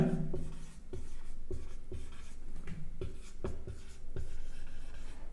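Handwriting math equations with a pen on paper: steady close scratching strokes with rhythmic taps and pauses between marks, no talking.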